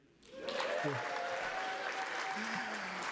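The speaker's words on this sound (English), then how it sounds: "Everybody cheer." A crowd at a college kickoff event bursts into loud, sustained applause and cheering, rising quickly after a brief quiet start and holding steady, with a few voices calling out within it.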